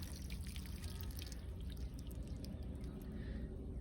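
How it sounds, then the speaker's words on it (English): Water drains from a freshly cut PEX plumbing line as the pressure is relieved, a faint, continuous trickle and patter of dripping that carries on steadily with no one talking. "I'm just gonna go ahead and relieve this pressure real quick, let some of the water out"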